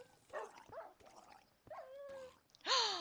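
Minecraft puppies yipping and whimpering: several short, high barks and whines in a quick irregular series, ending on a louder yelp, with no talk.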